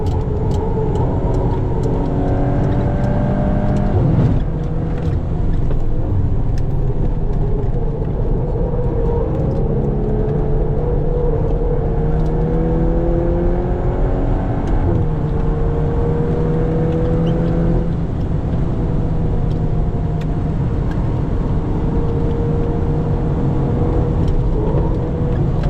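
A Volkswagen Golf R MK8 on a race track revs hard in-cabin, its engine climbing through the gears with rising pitch, dropping on shifts and braking, then pulling again under a constant road and wind roar.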